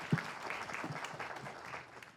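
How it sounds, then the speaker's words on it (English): Brief applause from a tech-conference audience thanking a panel, a short burst of clapping at moderate level. "Let's give them a round of applause."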